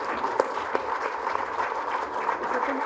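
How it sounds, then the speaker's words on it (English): An audience at the Pharma Ratan 2016 award ceremony applauds an awardee, Professor Y.K. Gupta, with dense, even clapping that holds at a steady level, moderately loud and close. "with a round of applause"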